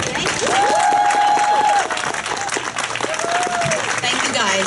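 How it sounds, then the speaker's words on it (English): Applause and cheering from a crowd at an outdoor climate strike rally in Croton-on-Hudson, New York, sustained and fairly loud, with whistles or shouted voices rising over the clapping. "I want to give them a big round of applause"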